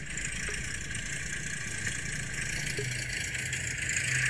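Jaguar car engine idling in the Roblox game Driving Empire, a steady synthetic drone with a faint rattle holding at an even level throughout, with no starting burst and no talk.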